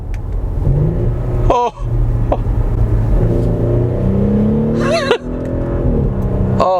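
A 2018 Audi SQ5 crossover's engine loudly accelerates through a rolling pull, a steady rumbling drone with rising pitch interrupted by brief gear-shift dips, while an occupant exclaims over it.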